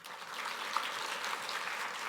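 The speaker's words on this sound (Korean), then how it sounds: "여러분들 이런 해군을 위해서 박수 한번 쳐주세요" A church audience claps together, a steady, fairly faint wash of applause that holds evenly for about two seconds with no voices over it.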